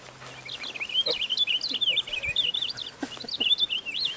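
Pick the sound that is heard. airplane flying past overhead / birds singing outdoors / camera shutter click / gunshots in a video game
birds singing outdoors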